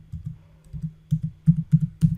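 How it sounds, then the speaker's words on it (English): Keys clack on a computer keyboard in short bursts of quick taps, with brief pauses between them. The typing is close, fairly soft and alone. "I'm going to type first name here in the mapping section"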